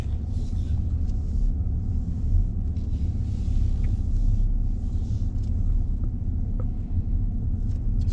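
Car with a double clutch automated gearbox driving at low speed, a steady low engine rumble with no clear gear-change break, close and continuous throughout.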